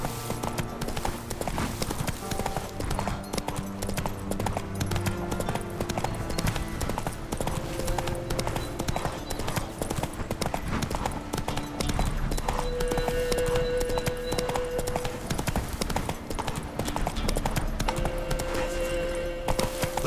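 Roach the horse gallops in The Witcher 3, a steady run of hoofbeats under a dense, continuous bed of game music and ambience throughout.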